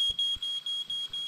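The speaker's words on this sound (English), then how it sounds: "No one wants to listen to your fire alarm." Fire alarm in an indie horror video game: a loud, piercing high electronic tone that repeats in steady pulses, with faint low thuds underneath.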